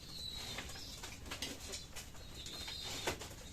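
Pigeons newly brought home to a loft, flapping wings in bursts while cooing, close by with a steady rustling backdrop and a few sharper chirps.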